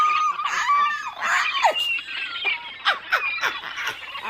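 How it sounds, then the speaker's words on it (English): Seagulls cry in a series of shrill, descending calls that overlap and repeat over several seconds at moderate loudness, with no speech. "Cue the seagulls."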